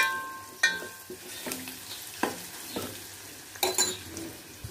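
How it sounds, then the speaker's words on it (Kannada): Cumin powder, chili, coriander powder and turmeric fry in a pan for tamarind rasam. A steady low sizzle runs throughout, broken by several sharp clinks and scrapes of a spoon stirring against the pan. "ಈಗ ಇದೆಲ್ಲ ಚೆನ್ನಾಗಿ ಫ್ರೈ ಆಗಿದೆ"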